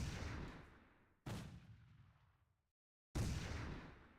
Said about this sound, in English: A lot of grenades here.